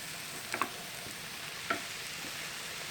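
Grated carrot sizzles in a frying pan under a steady soft hiss, with two or three brief scraping stirs of a spoon, close and fairly quiet, no talking.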